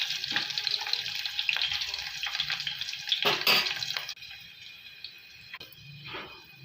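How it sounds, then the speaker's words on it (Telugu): Mustard seeds, cumin, asafoetida and crushed garlic crackle and sizzle in hot oil for an amla pickle tempering, with bursts of popping and stirring scrapes, loudest midway before settling to a softer fizz. "నూనె వేడెక్కగానే తాలింపుకి సరిపడా ఆవాలు, అలాగే జీలకర్ర, కొంచెం ఇంగువ, అలాగే వెల్లుల్లి రెబ్బలు దంచుకొని వేసుకోవాలండి"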